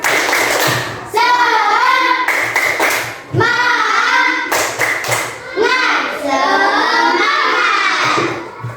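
Children in an elementary school classroom clap a rhythmic spirit cheer, bursts of patterned claps and thumps alternating with loud group chanting voices, close and lively.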